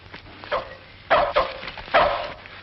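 A hillbilly's dog in a 1940s comedy film barks a few times, short sharp yaps spread over a couple of seconds at moderate distance.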